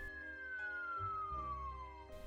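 A single ambulance siren wail slides steadily downward in pitch over a couple of seconds, fairly faint, against a low steady background hum and no voices.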